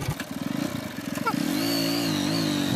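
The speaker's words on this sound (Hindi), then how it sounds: "इस गाड़ी का साउंड सुनो क्या हो गया।" A motorbike engine in poor running condition sputters up close with uneven, choppy pulses, then settles into a louder, steadier drone held to the end, with no voices.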